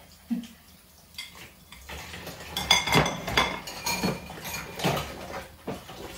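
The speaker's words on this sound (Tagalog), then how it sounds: "So hugasan ko muna itong kinainan ko para walang hugasan bago ako papasok." Dishes being washed by hand after a meal, with cutlery and plates clinking and clattering in a sink, close and intermittent, growing busier with repeated knocks and scrapes.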